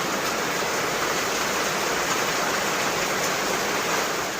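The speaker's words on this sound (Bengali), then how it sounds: "এখন হচ্ছে বৃষ্টি পড়তেছে" Steady rain falls outdoors around a lonely house in Bangladesh, a dense, even hiss of drops that stays constant throughout with no voices.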